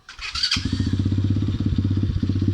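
An electric starter whirs for a moment, then a 125cc dirt bike engine fires and settles into a rapid, pulsing idle up close.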